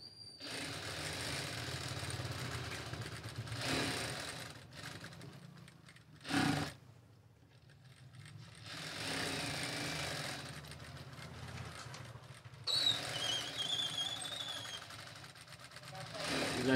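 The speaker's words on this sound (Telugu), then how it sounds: "ఈ బాడీ పార్ట్స్ మొత్తానికి మొత్తం మనం ఇలా స్టిచ్చింగ్ చేసేసుకుందాం" A sewing machine runs in bursts while stitching the body parts of a saree blouse, its steady mechanical whir rising and stopping several times over a low room hum, with a sharp clack in between.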